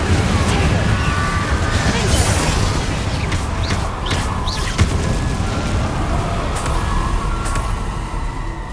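Incendio fire spell cast in the Hogwarts Legacy video game, a loud, dense roar of fiery blasts with scattered booms sustained throughout, no pauses.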